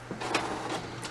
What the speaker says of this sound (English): Once you hit print, it's going to process on the printer